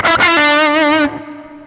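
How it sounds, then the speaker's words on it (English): An electric guitar played through a Zoom G5 multi-effect processor's hall reverb rings out as one sustained, slightly wavering chord, then fades into a lingering reverb tail, loud and alone. "And that's the hall reverb."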